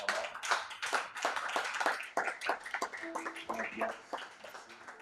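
Church congregation clapping in praise for the word of God during a sermon by an apostle, a close burst of sharp, uneven handclaps lasting several seconds, with voices calling out briefly among them.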